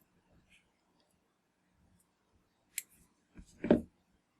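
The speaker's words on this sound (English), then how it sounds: "We can go ahead and trim off the excess of this." Small scissors trim excess material from a trout fly nymph at a fly-tying bench, a few quiet crisp snips near the end after near silence.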